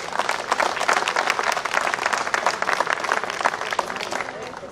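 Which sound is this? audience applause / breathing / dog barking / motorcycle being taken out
audience applause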